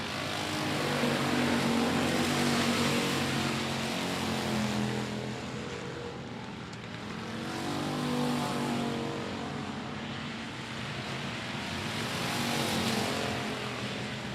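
Race cars circle a short oval at I-37 Speedway late in a regular race program, the engine roar rising and falling as the pack passes, loud and continuous with no talk.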